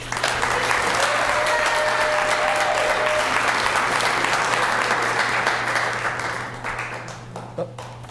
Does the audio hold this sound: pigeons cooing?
no